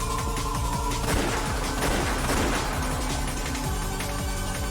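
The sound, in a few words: gunfire sound effect in Umineko When They Cry video game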